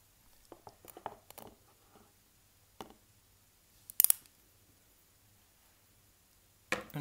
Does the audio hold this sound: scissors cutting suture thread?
yes